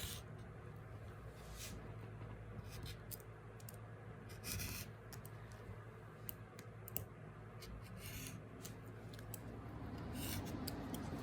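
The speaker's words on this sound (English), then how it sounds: "And then I'm going to go ahead and cut my next one." Scissors fussy-cutting fabric for a quilt block, with quiet, close, repeated snips and clicks of the blades over a soft background hiss, with no voices.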